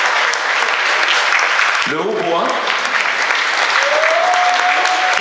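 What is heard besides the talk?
audience applauding the clarinet section of an orchestra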